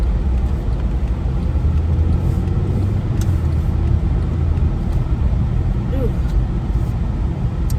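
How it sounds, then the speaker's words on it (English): A UPS delivery vehicle takes a turn at speed, giving a steady, fairly loud road rumble and engine drone that holds throughout without a break. "UPS car going a little faster on that turn now."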